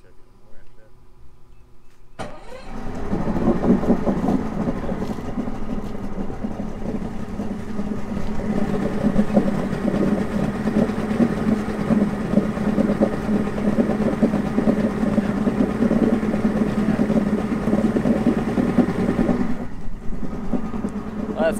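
Boat outboard motor on a Blazer Bay project boat cranks and catches, then runs at a steady, loud, rough idle for most of the clip before cutting off near the end.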